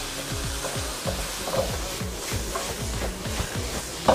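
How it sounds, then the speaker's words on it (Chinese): Pork belly and belacan stir-fried in a wok give steady sizzling with rhythmic scraping of a spatula against the metal, close and moderately loud, with no talk. "布拉酱炒香了过后，花肉， 将花肉炒到半熟，"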